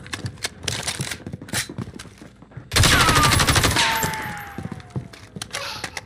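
Automatic gunfire in a first-person shooter bursts out in rapid volleys, loud and dense, after a stretch of scattered shots, with a whistling streak trailing through the middle of the barrage.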